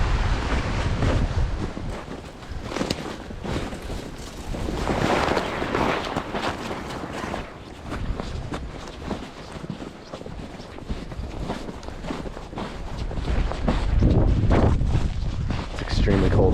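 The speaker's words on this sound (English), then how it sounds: "Super windy out here right now. Sounds like a train" Strong blizzard wind roaring through a frozen winter forest during an Arctic storm, heavy gusts surging and buffeting the microphone in waves, loud and continuous with rumbling low end.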